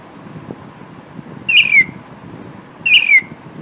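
Bird call from the Scratch sound library, two separate bright descending whistled chirps about a second and a half apart over a quiet faint background.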